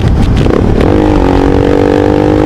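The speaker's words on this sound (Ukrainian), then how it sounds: "Чується динаміка розгін, як працює з газом." A motorcycle with a straight-through exhaust accelerating in city traffic, a loud, close engine roar that rises into a steady revving drone, with rough crackling at the start.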